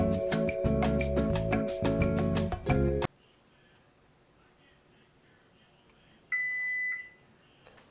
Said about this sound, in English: Now the timer's done.